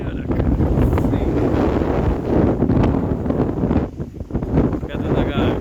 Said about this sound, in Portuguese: O vento tá me empurrando pra frente.